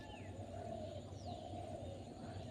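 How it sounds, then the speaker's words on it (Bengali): Birds calling on a quiet village morning, soft cooing and faint chirps over a low steady background hum, distant and gentle. "মোরগের ডাক, পাখির কিচিমিচি শব্দ,"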